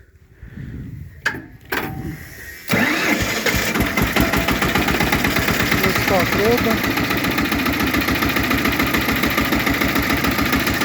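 A small tractor engine with a hand throttle cranks a couple of times, catches and settles into a loud, steady rhythmic idle, with someone speaking briefly near the start.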